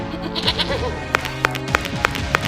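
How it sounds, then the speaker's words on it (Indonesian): A stray goat bleats nearby in a few short, wavering calls, followed by a run of sharp, evenly spaced taps over faint background sound. "Loh, kambing siapa ini? Kok jadi kesini?"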